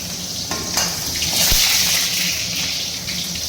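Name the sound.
food frying in hot oil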